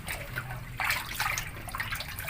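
Soaked mbote tubers are washed in water, producing close, irregular splashing and sloshing bursts for a couple of seconds, with no voices.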